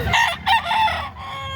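A gamefowl rooster lets out a single short, close crow that breaks into a couple of strained syllables.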